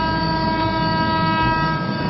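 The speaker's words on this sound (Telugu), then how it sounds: "మెల్లిగా ట్రైన్ కదిలింది." A passenger train slowly starts to move, giving a loud, steady rumble with a sustained mechanical hum that holds evenly throughout, with no voices.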